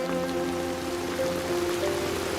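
Heavy rain falls steadily, a dense continuous patter and wash of drops on surfaces at moderate loudness, with a faint underlying tonal hum and no talk.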